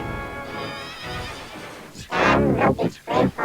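A large gray horse at a market neighs loudly and close, a long whinny rising into several strong shaky bursts over a faint background.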